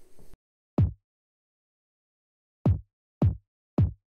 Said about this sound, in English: For the kick, I used two layers.